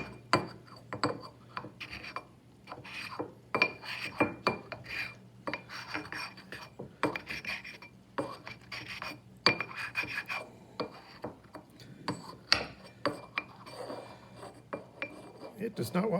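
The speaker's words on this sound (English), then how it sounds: "I'm gonna grind the living daylights out of it" Lab sample mixture being ground for an enzyme preparation, probably with a mortar and pestle, giving continuous scraping, rasping and clinking strokes in an irregular rhythm, close by with no talk.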